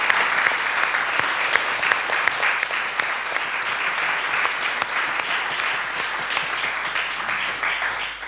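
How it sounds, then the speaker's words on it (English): Audience applause at the opening evening of a Berlin festival, a steady dense wash of many hands clapping throughout, loud and sustained with no talk over it. "I want you to applaud her"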